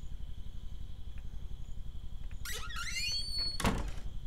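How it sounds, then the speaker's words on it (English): Wooden door in the medieval building game Medieval Engineers swinging shut: a creaking sweep followed by a sharp thud, faint over a low ambient hum, no talk. "Let me close this door"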